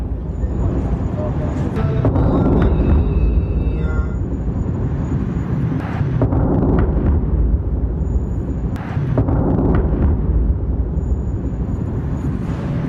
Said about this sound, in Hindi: यहां आप धमाका सुनिए, कैसे धमाके किए जा रहे हैं